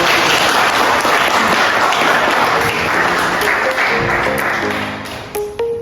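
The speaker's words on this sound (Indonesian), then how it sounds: "tepuk tangan buat" Loud, dense applause fills a lecture room after a final presentation slide, many hands clapping together for several seconds before tapering into scattered claps and a few voices.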